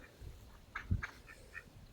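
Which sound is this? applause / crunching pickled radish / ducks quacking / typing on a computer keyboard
ducks quacking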